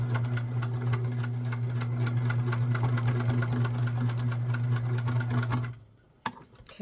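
A sewing machine back stitches a child's apron, running at a steady fast mechanical whir with rhythmic needle ticks for several seconds before stopping, and a couple of soft handling clicks follow.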